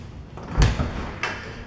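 Double doors to a covered back patio of a rented house, two short knocking thuds of a door being handled, the first louder, in a quiet room.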